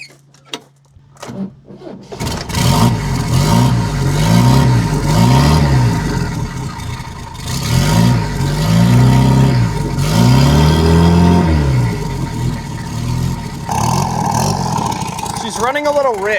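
An MGB car engine cranks with several rhythmic starter turns, catches, and revs up and down in repeated swells while running on boost, loud and close, with a voice speaking over part of it.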